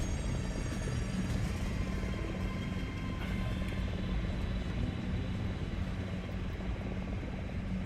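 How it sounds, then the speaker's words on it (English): A helicopter in the War Thunder video game drones steadily and continuously at a distance, with a constant low rotor and engine rumble filling the whole stretch. "Wait, that's not a friendly helicopter."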